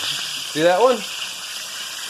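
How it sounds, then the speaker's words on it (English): Chicken deep frying in hot oil gives a constant soft sizzling hiss and bubbling, with a person briefly speaking over it. "That bubbling is from the oils inside, or the liquids inside of the chicken itself releasing into the surrounding oil."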